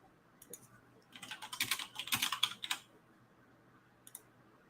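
Fingers typing on a computer keyboard, a quiet burst of rapid clicking keystrokes that swells for about two seconds, with a few isolated taps before and after in a calm room.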